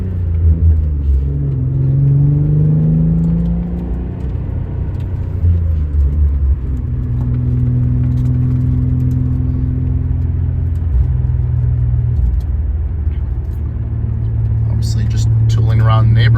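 A 1990 Nissan 300ZX drives along with a steady low engine drone that rises and falls as it accelerates and shifts, loud and close from inside the car, with some light noise near the end.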